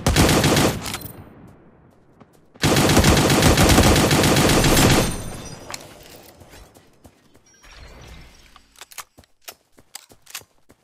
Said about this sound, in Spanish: Casi juraría que les ha disparado a alguien